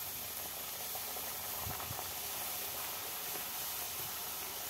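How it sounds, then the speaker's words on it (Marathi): Kurdai, a crisp rice or wheat papad, frying three or four at a time in hot oil, giving a steady broad sizzling hiss with a couple of brief louder crackles near the middle and no voices. "चला तर आता तळून घेऊ. तेल छान तापलं आहे."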